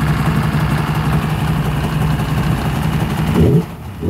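A small engine with about 111 hours on it, fitted with a big water box, idles steadily and loudly up close with an even low throb, then cuts off abruptly near the end.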